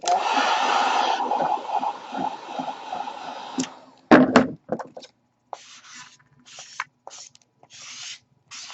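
A heat gun warms auto vinyl wrapped over foam armor, blowing a loud steady hiss for several seconds before cutting out. Rubbing, handling noises and scattered clicks follow.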